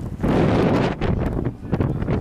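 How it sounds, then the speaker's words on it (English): Gusty wind buffets a microphone in rough, rumbling bursts at Aurora Municipal Airport, with the noise swelling and dropping several times. "It actually might even be windy over here."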